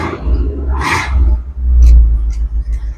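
A 1961 Ford F700 truck engine cranks and fires up, then settles into a loud, close, rumbling run with brief revs, and a person speaks faintly over it.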